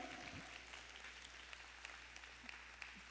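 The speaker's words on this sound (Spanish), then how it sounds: "Denle un fuerte aplauso al Señor" Faint, distant applause from a church congregation honoring the Lord, a soft sustained patter of many hands with a few sharper individual claps standing out.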